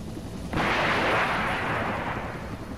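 An AH-1W Cobra helicopter fires on T-72 tanks in a video game: one sudden, heavy blast that becomes a broad, sustained roaring rush lasting a couple of seconds.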